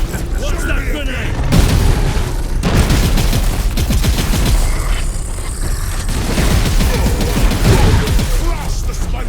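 A grenade blast in the Warhammer 40,000 Space Marine Master Crafted Edition video game, heard as loud booming bursts among rattling gunfire and constant battle noise.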